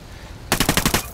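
A short burst of about six rapid gunshots in the video game Ghost Recon Wildlands, loud and close, starting abruptly after a near-silent moment.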